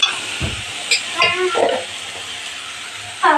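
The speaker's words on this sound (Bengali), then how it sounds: "আমরা মশলাটা ভালো করে কষিয়ে নেব।" Spice paste with chili powder for a Bhola fish and eggplant curry frying in a pan, with a soft sizzle under scraping strokes of a spoon stirring and a few sharp clinks against the pan.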